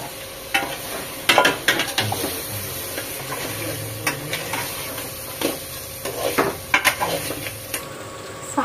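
Onion paste frying in oil in a pan for Telugu-style crab curry, a continuous soft sizzle punctuated by repeated scraping stirs and spatula knocks against the pan, no talk.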